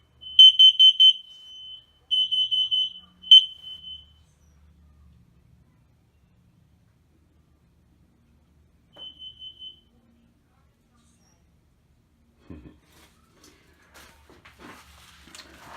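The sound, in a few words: smoke and carbon monoxide alarm sounding in an RV trailer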